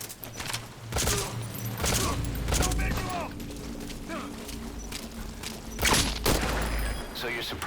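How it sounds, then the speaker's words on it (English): Bursts of gunfire in Metal Gear Solid V: Ground Zeroes, sharp loud volleys in the mix with game ambience and movement sounds, while a voice talks over them at times. "We're hearing gunfire"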